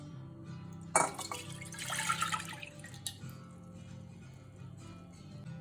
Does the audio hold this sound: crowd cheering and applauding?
no